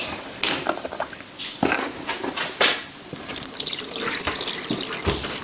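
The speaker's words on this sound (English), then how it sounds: "And now we're gonna put some milk." Milk poured into a bowl while making french toast, a close splashing liquid stream broken by brief knocks and clatters, with no talking.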